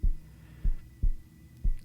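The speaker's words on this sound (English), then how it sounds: "you are able to simply listen to the sound of the heartbeat" A recorded human heartbeat thumps in a slow, steady rhythm, four deep low pulses standing out clearly against a quiet background hum, with no voice over it.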